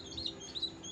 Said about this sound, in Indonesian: Itu kandang burung yang jauh